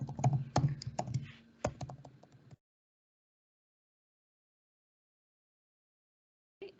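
Quick, close keystrokes on a computer keyboard tap out an email address for about two and a half seconds, then silence before one last short tap.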